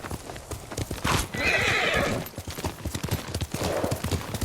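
Hooves clip-clop steadily while a horse neighs loudly mid-clip in Ghost of Tsushima, with scattered clatter and brief game effects around it.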